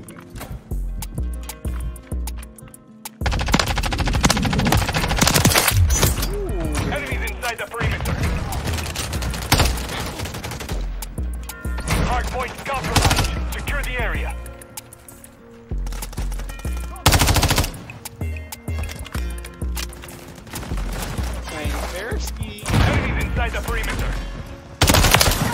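MTZ 556 rifle gunfire in the video game Modern Warfare 3, rapid loud bursts of automatic shots in repeated volleys with game sound effects, while a player talks over the action.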